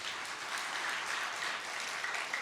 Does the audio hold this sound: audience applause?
yes